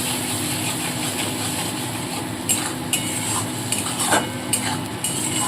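Pabda fish being sautéed with salt, turmeric and sugar: a steady loud sizzle and hum of frying, with a few metal spatula clinks and scrapes against the pan toward the end.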